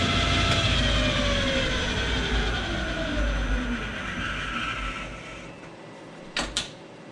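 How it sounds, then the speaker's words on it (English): A Clausing 5914 metal lathe runs with its lead screws turning, giving a loud mechanical whir with gliding tones that slowly fade as it winds down, then two sharp clunks near the end. "I gotta make sure my lead screws turn in the right direction."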